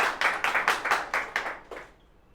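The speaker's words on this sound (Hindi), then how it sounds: "जोरदार तालियां हो जाए भाई ममता के लिए" A small crowd at a 2023 student honour ceremony gives a short burst of rhythmic clapping, about eight or nine distinct claps that fade out after two seconds.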